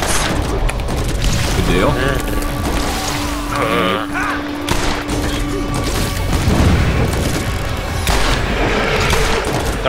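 Loud rocket explosions and booming gunfire in a video game battle, dense and continuous across the clip, with a player talking over the chaos.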